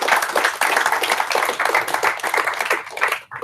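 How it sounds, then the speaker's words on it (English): Audience applause after a talk at a London web performance meetup: a dense, steady patter of hand claps that carries on for a few seconds and thins out right at the end. No one speaks over it. "just one more round of applause and thank you for Simon's great talk as usual."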